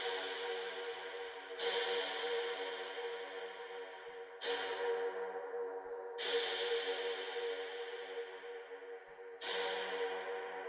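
Four sustained synth-like percussion hits swell and wash out in long reverberant tails, spaced a couple of seconds apart, with no talking.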